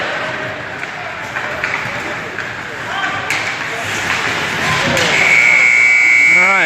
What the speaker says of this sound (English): there's your buzzer